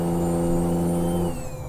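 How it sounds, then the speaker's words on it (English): A Freightliner Classic XL truck engine with a 10-speed gearbox in Euro Truck Simulator 2 drones steadily at high revs, a loud constant hum that eases slightly near the end, with no talking. "very noisy in this truck, I've noticed, with this 10 speed"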